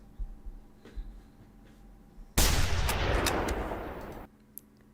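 A sudden, loud, sustained burst of rapid gunshots in the game Generation Zero lasts about two seconds and then cuts off, preceded by quiet ambience with faint distant thumps.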